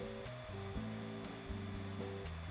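A steady hair dryer blows close by on a hairsprayed wig, a constant airy roar with a low hum that shifts slightly in pitch as it moves.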